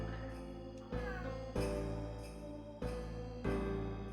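Several drawn-out cat meows come from the video game Final Fantasy X, each with a sharp onset and a fading tail, over steady game music with no talking.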